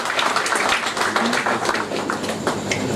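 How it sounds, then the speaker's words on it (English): A company's twentieth anniversary gathering gives its clients a round of applause, a full, steady crowd clapping heard close and continuous for a few seconds, with no talking over it. "I would like to ask a round of applause for our clients who are here"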